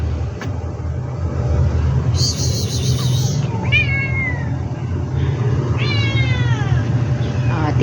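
Several cats meow in short, rising calls spaced a second or two apart, over a steady rumble of passing traffic.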